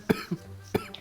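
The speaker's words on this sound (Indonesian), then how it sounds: "Gue batuk." A man coughs twice in a quick pair, then gives one more sharp cough after a brief pause, close and fairly loud, with no talk in between.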